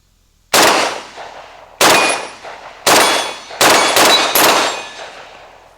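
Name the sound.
gunshots hitting an 8-inch steel gong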